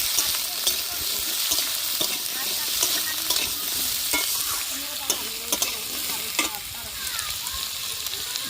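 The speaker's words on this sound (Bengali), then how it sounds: "আর দিয়ে দিচ্ছি আলু আলুগুলো একসঙ্গে ভালো করে কষিয়ে নেবে" Potatoes stir-fried in a pan for a village-style Bengali chorchori, with steady sizzling and repeated scraping strokes of a spatula throughout, close and fairly loud.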